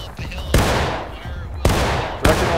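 Musket volleys in the Civil War game War of Rights during a large line battle, three sharp crackling volleys with long decaying tails, loud and close, spaced roughly a second apart, with no clear talk.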